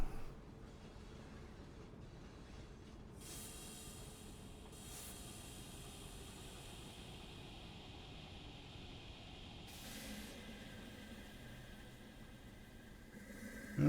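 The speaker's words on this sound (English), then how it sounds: "Just in time, there's the other coal train." A coal train rolling past in the railway-building game Constracktion, a faint steady rumbling hiss of wheels on track sustained throughout, with a couple of brighter bursts of hiss rising briefly over the low, distant noise.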